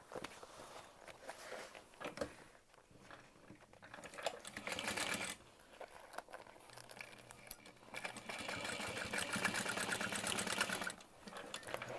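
A sewing machine stitching a seam, with bursts of rapid mechanical whirring that start and stop, then a longer steady run, fairly faint against room noise and with no talk.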